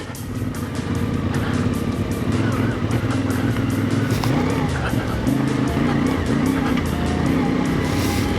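A CFMoto 450MT trail bike sliding over slippery ground, its engine a loud, steady, close drone with rough tyre and wind noise throughout and no break.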